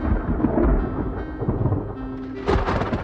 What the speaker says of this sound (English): And this is where the sound of thunder comes from.